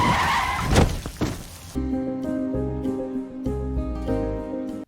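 Film sound effects of a car skidding with tire squeal, then a heavy thunk and crash as it strikes a person, followed by music, loud and without talking.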